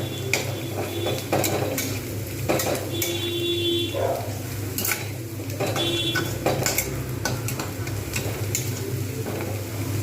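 Sliced onions fry in hot oil for biryani birista, a steady sizzle running throughout while a utensil stirs and knocks against the pan now and then.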